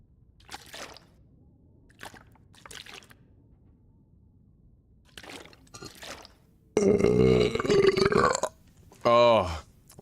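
Burps in The Long Dark gameplay: a loud, drawn-out burp followed shortly by a second, shorter one, after a few faint soft knocks and rustles.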